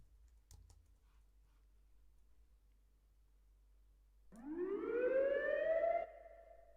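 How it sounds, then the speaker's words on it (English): A police siren sound effect swoops upward and wails loudly for about two seconds, then cuts off abruptly, after a couple of faint clicks in near silence. "let's hear this police siren"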